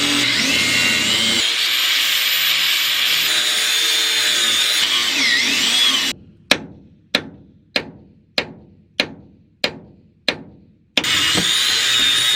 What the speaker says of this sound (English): So I'm gonna go for grinding these bolts, get them all off